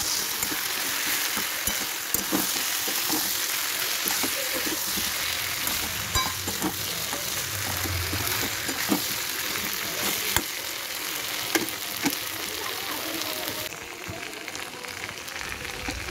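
A steady, even sizzle of potatoes frying in a pan continues throughout, with occasional soft ticks and pops over the hiss.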